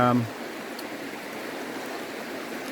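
A creek's water flows steadily in a broad, even rush at a gold-panning spot along its edge, with a brief voice at the very start.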